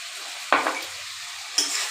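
Spiced kalai dal and fish head with bottle gourd sautéing in a pan for a Bengali muri ghonto, giving a steady close sizzle broken by two sharp scraping stirs.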